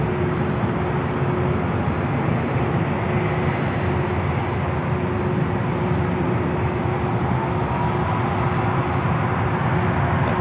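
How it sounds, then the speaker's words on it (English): A Delta Airlines Boeing 737-800 in SkyTeam livery arrives at LAX from SFO, its jet engines a loud, steady, broadband roar that lasts the whole stretch with no talking. "Next arrival is Delta Airlines in the SkyTeam livery, flight 2272, committed from SFO, 737-800"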